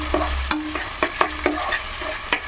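Onions fry in hot oil in a pan with a loud, close sizzle, broken by regular stirring strokes and scrapes of a spoon.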